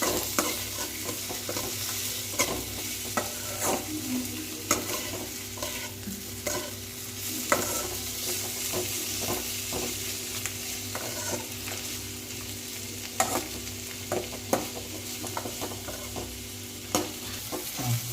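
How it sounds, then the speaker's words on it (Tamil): Chopped tomatoes sauté with onion and garlic in a pan and are stirred often, making a fairly quiet, steady sizzle over a low hum, with repeated spatula scrapes and clicks and no speech. "இப்போ கட் பண்ணி வச்சிருக்க தக்காளியை சேர்த்துக்கலாம். சேர்த்து நல்லா வதங்கணும், நல்லா கிண்டி விடணும்."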